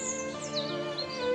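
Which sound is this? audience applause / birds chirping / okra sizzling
birds chirping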